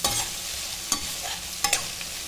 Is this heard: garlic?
yes